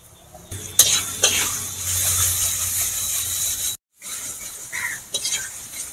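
Ground spice masala hisses and sizzles loudly in a hot pan after water is poured in, a steady frying crackle with a spoon clanking and stirring, a brief cut to silence, then more stirring and sizzling.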